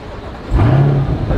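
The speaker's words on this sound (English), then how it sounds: "let's try doing a remote start with both of them side by side. That's gonna be pretty cool, right? Here we go, Corvette first." A Corvette with a Tremec DCT fires up by remote start, a brief rising engine catch that settles into a close, loud idle rumble.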